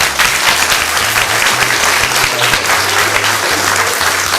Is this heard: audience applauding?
yes